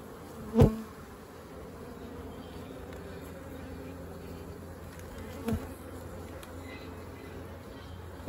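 Honey bees buzz in a steady, low hum around an open hive while frames are handled, with two sharp knocks breaking the drone.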